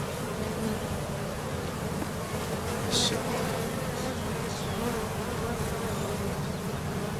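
Honey bees buzz around a hive in a dense, steady swarm drone that stays close and constant throughout, with no voices over it.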